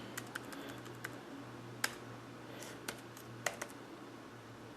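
Keys on a keyboard are tapped lightly while entering a name into a messaging app, sparse quiet clicks spaced irregularly over a low steady hum.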